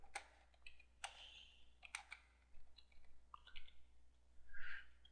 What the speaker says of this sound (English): I start typing.